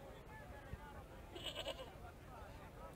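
A goat in the video game Broken Sword 2 gives a short, wavering bleat midway, fairly faint, over a steady ambient background with some talk around it.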